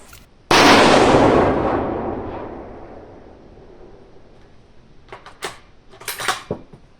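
A .308 Winchester rifle shot at an outdoor shooting range: one loud, sharp blast with a long, slowly fading rolling echo, followed by several light metallic clicks and clinks of handling.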